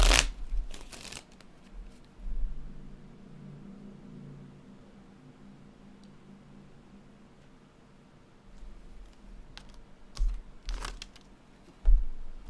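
A deck of cards being shuffled, with a burst of riffling near the start and again around ten to twelve seconds, quieter handling in between, close and fairly soft.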